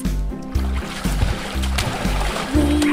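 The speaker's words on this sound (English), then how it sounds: "Five splashes." Water splashes in a children's nursery rhyme song, a series of rhythmic splashy bursts roughly every half second over a bouncy musical backing.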